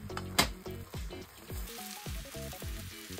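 An egg sizzles in a hot pan as a Japanese rolled omelette is cooked, a soft steady crackle heard beneath louder melodic background music.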